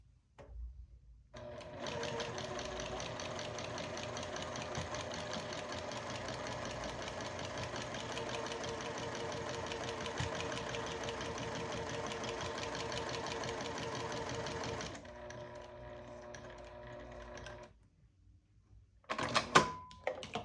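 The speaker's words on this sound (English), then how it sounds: "And then I'm going to sew just right down till I get to the end." A sewing machine with a walking foot quilting a seam on a Halloween mug rug runs in one steady, close, fast stitching burst lasting about thirteen seconds, then slows and stops, followed by brief handling clatter.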